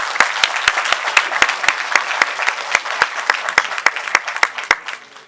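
Applause from an audience: crisp claps fall in a steady, evenly spaced rhythm, loud and close, for about five seconds before fading out.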